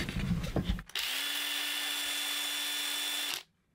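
A Ryobi power tool powered by a Bosch 18 volt battery: a short click, then the motor spins up and whines steadily at close range for about two and a half seconds before cutting off abruptly.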